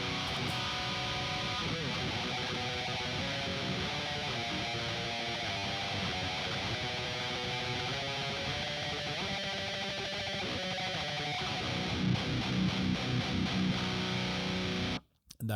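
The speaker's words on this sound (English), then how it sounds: "But then distortion pedal goes on." Electric guitar through a distortion pedal in a heavily gained tone, playing loud dense riffs continuously, with a brief cut near the end.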